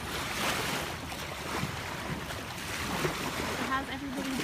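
Ocean waves at Eilat at sunset make a soft, continuous wash mixed with wind buffeting the microphone, with faint voices in the background.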